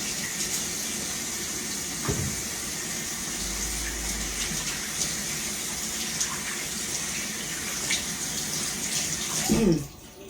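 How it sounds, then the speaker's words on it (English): Running tap water splashes steadily at a kitchen sink as hands are washed during home cooking of onion gravy, a continuous close gush that ends with a brief louder splash near the finish. "let me wash my hands real quick, please."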